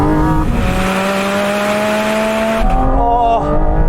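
Porsche Cayman GT4 RS engine screams at high revs, its pitch climbing and then dropping sharply with quick gear changes, loud and close from inside the car.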